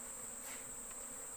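Honey bees buzz steadily during a honey harvest, a continuous high whining drone from many insects at close range, with no voices.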